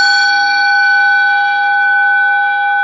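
A meditation gong rings out in a long, steady sustained tone with bright overtones, loud and close, decaying slowly and alone without any talk.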